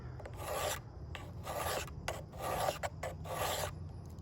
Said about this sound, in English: coarse side of my sharpening stone and I drag it back 10 times